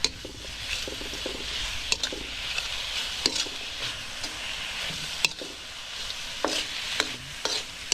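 Beef stir-fried in a pan sizzles steadily while a utensil scrapes and clinks against the metal in irregular sharp knocks, close and clear with no talking.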